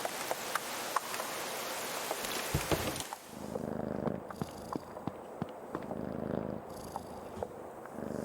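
A cat purring in the video game Creepy Tale 2: a steady, soft rumbling purr that continues throughout, mixed with a rain-like patter and occasional clicks, with no talking.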